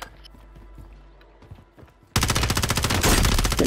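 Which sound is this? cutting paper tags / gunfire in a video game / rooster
gunfire in a video game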